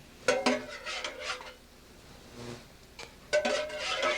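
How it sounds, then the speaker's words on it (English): Chopped clams being put into a cooking dish, heard as a few close clinks and scrapes of a utensil against the dish in short bursts, with quieter gaps between. "Get our chopped clams in the dish."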